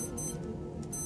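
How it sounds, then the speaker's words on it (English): Several G-Shock digital watches beep and chime together, thin electronic tones sounding close and clear over a steady low background hum, with no talking. "All my watch is going to start beeping and chiming."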